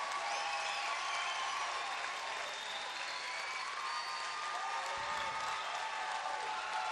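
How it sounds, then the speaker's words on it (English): Crowd applause at an amateur men's soccer final between England and Croatia: a dense, steady wash of clapping and crowd noise, moderately distant and continuous without pause. "There you hear it, great applause."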